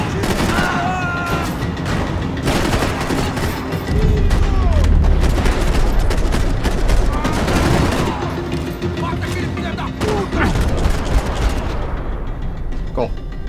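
Loud, rapid gunfire from Max Payne 3 rattles through a chaotic firefight, with bursts, booms and shots piling up almost continuously and a voice talking over it.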